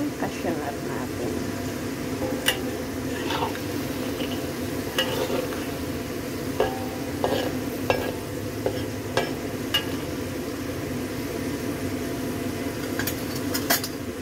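Cashew nuts roast in a hot oiled pan with a steady, soft sizzle, broken by scattered clinks and scrapes as they are stirred, close and fairly constant.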